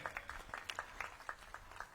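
A rally audience gives scattered, faint applause for Narendra Modi at a community gathering in Chhattisgarh, with individual claps in a loose, uneven rhythm.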